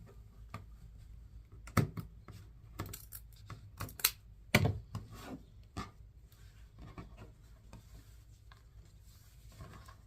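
Snips of scissors cutting flower stems at an angle for a summer wreath, a few sharp close clicks and crunches scattered among quiet handling sounds, with no talk.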